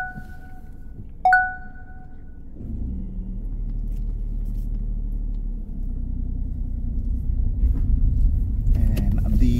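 A learner's car pulls away from a test centre car park in Goodmayes, its low engine rumble building steadily after a short electronic double beep, with faint cabin noise throughout and no talking.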